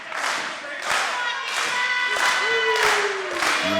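A crowd at a pro wrestling show claps and cheers in loud rhythmic waves, with a whistle rising through the noise and someone talking over it.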